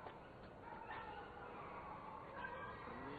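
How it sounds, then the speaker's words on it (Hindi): Dogs barking and yipping in the distance during a night-time horror-show setting, scattered faint barks and whimpers over a steady background hiss, with no clear speech. "ये जानवर भौंक रहे हैं"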